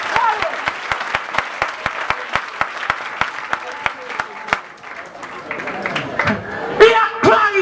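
Church congregation clapping in a steady, rhythmic beat, sharp evenly spaced claps near and loud, then giving way to looser crowd noise and voices toward the end.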